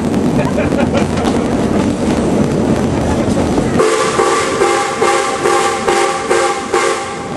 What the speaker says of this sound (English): What's that whistle signal mean? No, we're slowing down.